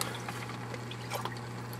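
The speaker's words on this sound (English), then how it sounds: "I just added water to each bag." Water is added into fish-shop bags holding corals being acclimated, a faint, soft trickle and splash over a low steady hum, quiet and close with no talking.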